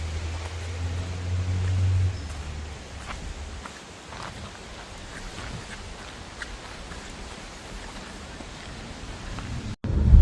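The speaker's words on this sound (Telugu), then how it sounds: "రెయిన్ స్టార్ట్ అయింది మళ్ళీ." Rain falls outdoors near a river on the Appalachian Trail in the USA: a continuous, even wash of hiss with scattered patters, steady throughout, with a brief low rumble at the start and a bump at the end.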